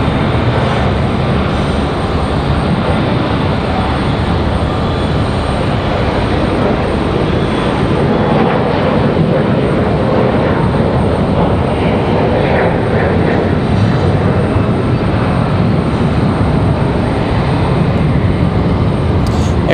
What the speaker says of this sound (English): We've got another United Express on the move, E170, E175.